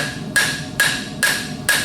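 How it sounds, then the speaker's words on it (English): The flat side of a hammer strikes a ground surface four times in a steady rhythm, each blow close, sharp and loud, spaced about half a second apart, with no voices. "I'm going to use the flat side of the hammer, come up here a little further. I'm going to walk back and forth across there."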